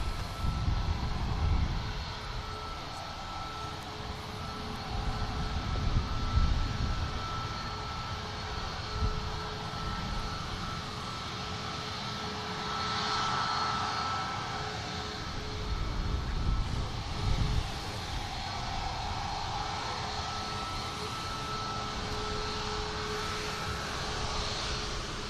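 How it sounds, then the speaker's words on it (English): EasyJet airliner taking off from an airport toward France, a fairly faint, distant jet roar that swells and fades in broad waves over a long stretch, with no talking. "And off down to France, the EasyJet goes, with the Ryanair next out."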